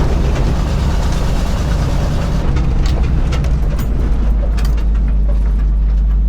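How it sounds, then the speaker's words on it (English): A loud old beater truck drives along, its heavy engine drone and rumble steady and close for the whole stretch, with road and cabin noise layered on top. "It's such a loud vehicle."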